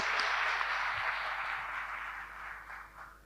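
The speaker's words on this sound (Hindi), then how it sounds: "ताली सब- बजाओ इनके लिए सभी लोग" An audience at a cooperative dialogue event in Ahmedabad applauds together, a dense, steady patter of clapping that slowly fades over a few seconds.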